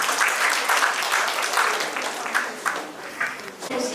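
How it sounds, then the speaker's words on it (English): Audience applause at a state-level workshop on consumer dispute resolution through mediation, a steady wash of many hands clapping that fills the room for several seconds, fairly loud, with no one speaking over it. "you really deserve a big round of applause."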